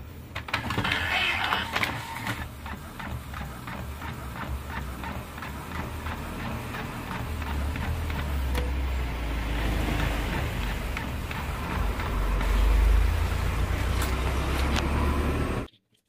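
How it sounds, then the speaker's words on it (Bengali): An Epson L130 inkjet printer prints a page. A steady mechanical whir and hum runs for about fifteen seconds, with a rhythmic ticking of the carriage early on and a deeper rumble toward the end before it stops abruptly. "ওকে, তো আমি আবার একটা প্রিন্ট দিচ্ছি, দেখি কিরকম প্রিন্ট আছে।"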